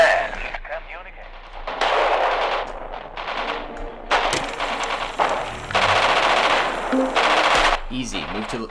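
Bursts of rapid automatic gunfire from a squad-based military video game, loud and repeated in long volleys with short gaps, mixed with shouted radio-style voice commands.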